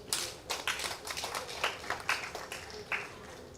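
An audience claps at a closing ceremony for a rural women's agribusiness project: a loose patter of hand claps from a modest group, with several sharper claps standing out, and no talking.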